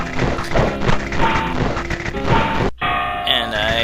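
Shots at targets in Exidy's 1986 arcade shooter Chiller, loud repeated thuds and impact hits over busy game noise, a sudden cut, then chiming tones.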